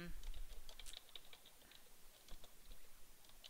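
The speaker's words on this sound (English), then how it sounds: "so I'm going to type this in again" Typing on a computer keyboard while working in Microsoft Excel, a faint, quiet patter of irregular key clicks at close range over low background noise, with a voice faintly present.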